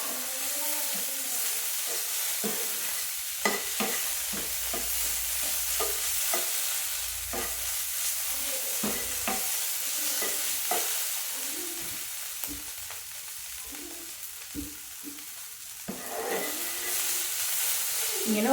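Bitter gourd stir-fried in oil for a Kerala mezhukkupuratti, a steady close sizzle broken by repeated clacks and scrapes of a spoon stirring the pan, with no talk.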